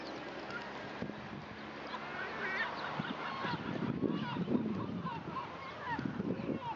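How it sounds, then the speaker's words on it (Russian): Gulls call repeatedly outdoors at the water's edge, honking, cackling cries rising and falling over a low background rumble, with faint voices at moments. "Вы слышите, как хохочут чайки?"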